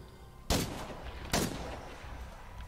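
Two single gunshots in the video game State of Decay 2 crack out sharply about a second apart, each fading quickly over a quiet background murmur, with no talk.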